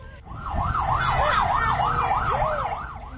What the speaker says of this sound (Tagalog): Maririnig din sa video ang pagdating ng mga bumbero upang apulahin ang sunog.